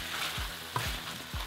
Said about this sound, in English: That's been frying for a bit.